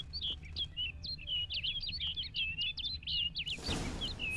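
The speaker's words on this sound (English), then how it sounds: "Looks like the bird's leading me somewhere." Bird chirps from the Witcher 3: Blood and Wine game world ring out in a quick run of bright, repeated tweets over a low ambient hum, steady for about three seconds before a burst of broadband rustle cuts in at the end.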